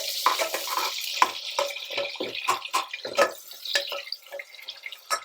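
Onions frying in a pan as the base for mutton paya gravy, with irregular wet sizzles, pops and drips and occasional stirring knocks, close and moderately loud with no talk over it.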